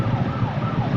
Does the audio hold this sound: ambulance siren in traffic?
yes